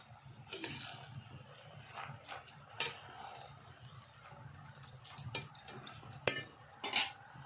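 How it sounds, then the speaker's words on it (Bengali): Chopped spinach, potato and taro being stirred in a pan, with irregular scrapes and clinks of a utensil against metal, close and moderately quiet, spaced out over several seconds. "এগুলি একটু নেড়ে নেব"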